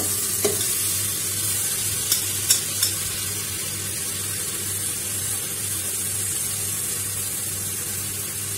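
Rice goes into a hot pan of spiced oil with coriander powder for a sprouted vaal pulav, and a loud, steady sizzle runs throughout with a few light clicks and scrapes from stirring, with no talking.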